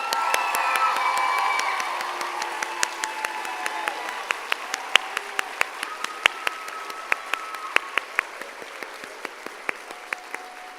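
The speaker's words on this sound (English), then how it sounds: "Let's give them another round of applause" A crowd applauds at a health professions school commencement ceremony, a broad sustained wash of clapping heard at a distance, with a few sharp nearer claps standing out and faint cheers mixed in.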